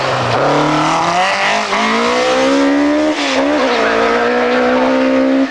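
Rally car in the 1600 class on a timed stage, engine revving hard with rising and falling pitch and tyres squealing through a left-hand corner, loud and close throughout with no talk.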